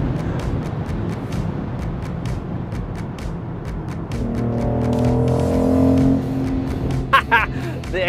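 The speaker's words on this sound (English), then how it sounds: "The exhaust is crackling." A BMW X3 engine drones along with a rising rev, then a few sharp pops and crackles from the exhaust near the end.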